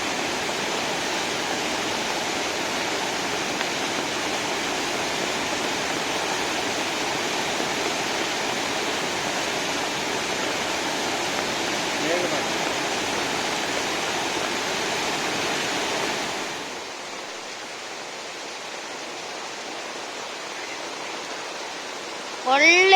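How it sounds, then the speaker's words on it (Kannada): A monsoon-flooded village stream roars in the rain, a loud and steady rush of water that drops to a softer, thinner flow near the end. "ಇದ ಚೂರತ್ತು ನೀರಿನ ಶಬ್ದ ಕೇಳಿದ."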